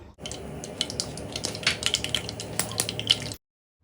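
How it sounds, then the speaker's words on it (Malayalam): Dense crackling and spluttering of a teaspoon of mustard seeds popping in hot sesame oil for Kerala-style mango pickle, many sharp close pops over a few seconds, then a sudden cutoff. "നമുക്കിതിലേക്ക് ഒരു ടീസ്പൂൺ കടുക് ചേർത്തിട്ടൊന്ന് പൊട്ടിക്കാം"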